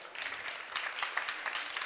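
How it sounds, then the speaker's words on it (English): Audience applause for a speaker at a talk on MOOCs, a steady wash of many hands clapping at moderate level for a couple of seconds with no voices over it. "An applause for Dave Cormier."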